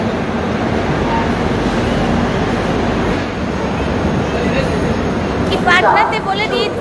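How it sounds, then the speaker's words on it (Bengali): A train rolls through Patna Junction, a busy main-line railway station, making a loud, steady rumble close by that lasts throughout, mixed with a murmur of crowd noise. "পাস করছে ট্রেন।"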